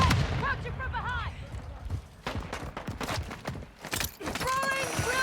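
Gunfire in the video game Modern Warfare 2: bursts of sharp shots come in irregular clusters, some close and loud, mixed with game sound effects and players talking over them.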